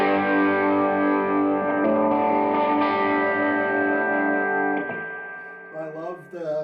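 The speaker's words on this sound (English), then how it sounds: "here's the tone again with the MXR" Electric guitar played through an MXR Shinjuku pedal, sustained distorted chords ringing with a punchy, clear overdriven tone, then fading out into a few short picked notes at the end.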